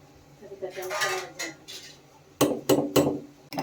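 A plate is set over a pot of boiling avarekalu (field bean) sambar, giving a few sharp metallic clanks close by after some softer shuffling kitchen sounds.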